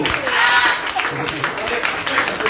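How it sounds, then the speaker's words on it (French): An audience claps for a woman about to sing at a deliverance service, a short burst of applause heard under someone speaking loudly over it. "Acclamez pour elle"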